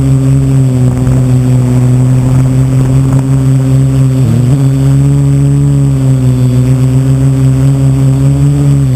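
A Parrot AR quadcopter drone with a GoPro camera strapped on hovers close by, its rotors producing a loud, steady droning buzz with a brief dip in pitch midway.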